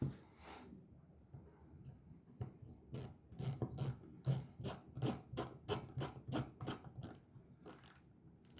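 A small ratcheting driver tightens screws while a Spyderco Para 3 pocket knife is assembled, giving a close run of about a dozen quick, rhythmic clicking ratchet strokes after a few faint handling sounds.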